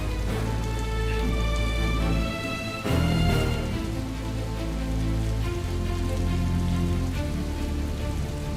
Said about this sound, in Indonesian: Enak nih pas hujan-hujan deras gini